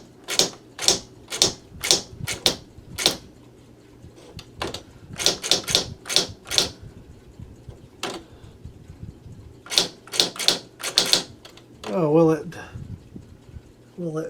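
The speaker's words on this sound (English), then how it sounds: "See if we can type." Typing on a 1989 Sharp PA-3100 electronic typewriter: bursts of sharp, close keystroke clicks in quick runs separated by pauses, with a short mechanical whirr near the end and no talking.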